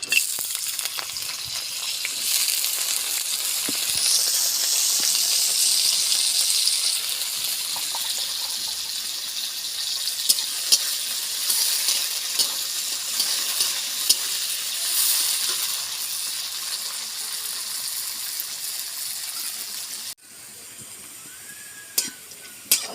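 Steady loud sizzling of bitter gourd frying in hot oil in a pan, with occasional stirring scrapes and clinks; the sizzle drops quieter near the end.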